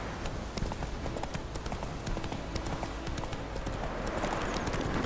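Horse hooves galloping in The Witcher 3, a rapid continuous clip-clop under dense game ambience, fairly loud and steady throughout.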